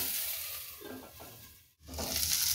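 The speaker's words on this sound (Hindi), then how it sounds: "और ये गोभी अब हम इन सारे सब्जियों को अच्छे से भूनेंगे" Cauliflower and mixed vegetables for a broken-wheat pulao sautéing in a pan, with a steady close sizzle and a few soft stirring scrapes, broken by a brief quiet moment before the frying noise returns.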